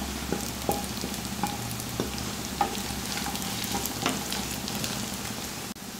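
Chopped onions sauté in hot oil for a chicken curry as previously fried coconut pieces are tossed in, giving a steady close sizzle broken by sharp stirring scrapes and clicks, with no voices.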